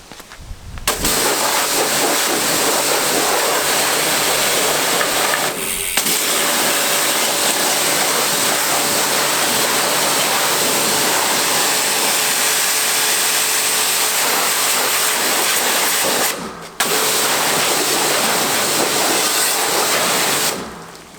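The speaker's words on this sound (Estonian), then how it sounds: "Natukene seisab ja siis võibki veega puhtaks lasta." Water spray rinsing a bicycle clean, a loud, steady hissing rush that runs almost continuously for about twenty seconds with two brief breaks, close by and without talk.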